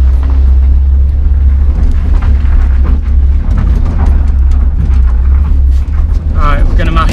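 A BMW E36 with a swapped-in M50 six-cylinder engine, heard from inside the car as a loud, rumbling drone with mechanical rattles and creaks, surging as it accelerates.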